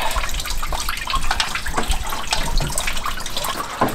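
Coolant leaking from a car radiator, pouring and splashing steadily like running water into a drain pan, close and continuous throughout with no talk.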